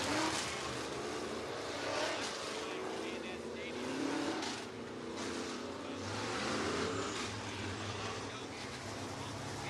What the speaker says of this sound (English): Hot lap / qualifying for the super late models.